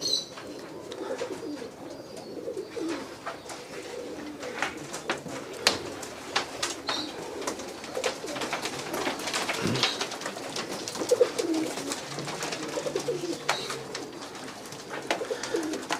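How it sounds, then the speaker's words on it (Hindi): Soft pigeon coos repeat throughout, layered with bird chirps and light clicks and rustles nearby, steady and low in level. "साथ में कबूतर है।"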